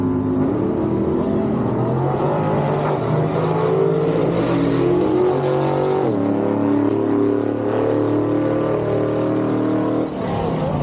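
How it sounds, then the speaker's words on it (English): A loud gasser drag race car roars down the track, its engine revving hard through gear changes and sustaining a throaty, powerful drone for several seconds. "Kobe Welch goes 873 and 76 miles an hour"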